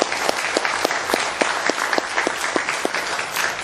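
An audience applauds with loud, sustained clapping from many hands, evenly paced throughout.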